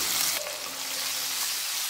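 Steady crackling sizzle of onions frying in hot oil, a continuous bright hiss with small pops, close by and with no voices.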